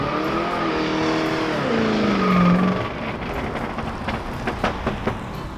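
A muscle car exhaust with a loose baffle roars as the engine revs up and climbs in pitch, drops off, and then gives way to a run of sharp, rapid rattling taps.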